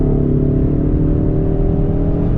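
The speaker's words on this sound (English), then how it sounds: "you get a little bit of sound from it when you rev it up there, but it ain't no V8" EcoBoost Ford Mustang engine revving from inside the car on a test drive, a steady, loud, low drone that holds without a clear rise or fall throughout.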